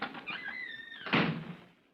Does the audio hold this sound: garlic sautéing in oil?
no